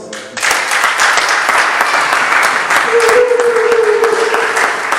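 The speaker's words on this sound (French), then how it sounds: "Si c'est bon, est-ce qu'on peut acclamer pour ça?" A church congregation bursts into loud, sustained applause and cheering that fills the room, with a voice rising briefly above the clapping.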